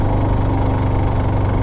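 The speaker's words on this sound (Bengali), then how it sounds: "3 নম্বরে বাইক অনেক স্ট্রাগল করতে হচ্ছে" A motorcycle engine labouring in third gear up a steep mountain road near the Bhutan border, a loud, close, rough low drone with a steady pulsing throb.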